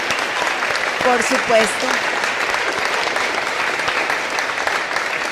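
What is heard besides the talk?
studio audience applause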